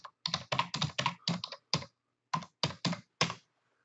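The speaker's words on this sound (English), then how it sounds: "For example, I could type text." Fast bursts of typing on a computer keyboard, clustered clicks in quick runs with one short pause midway, close and clear with no voices.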